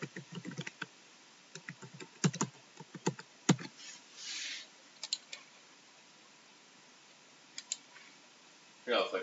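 Keys clatter on a computer keyboard while logging into an ACI network controller, coming in quick irregular bursts of close clicks, then pausing before a final short flurry.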